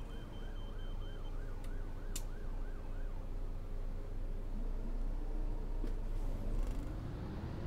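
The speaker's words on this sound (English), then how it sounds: "But oh no, more sirens." Emergency vehicle sirens in the bus simulator game OMSI 2, a wailing siren rising and falling steadily over constant road and engine rumble, fairly close, with brief sharper tones at points.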